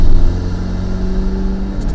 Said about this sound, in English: That limiter though sounds crazy